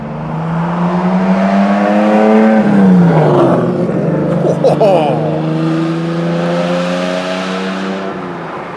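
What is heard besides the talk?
Lamborghini sports car revving past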